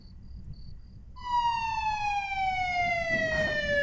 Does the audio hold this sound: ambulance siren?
yes